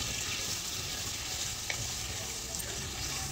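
Onions sizzle steadily in a hot pan of oil for a prawn and sorrel leaves curry, a continuous close frying hiss with a few faint stirring taps and no talk.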